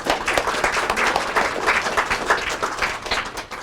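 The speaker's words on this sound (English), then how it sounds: "Let's give a round of applause for Hope" An audience claps for speaker Hope McMath at an evening art and protest talk, a steady, dense round of applause filling the whole stretch at close range.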